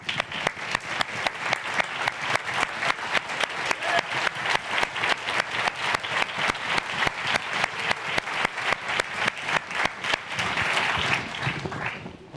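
Audience applause for the judges at a startup competition finals, sustained dense clapping from a large crowd, steady and unbroken for several seconds before tapering at the end.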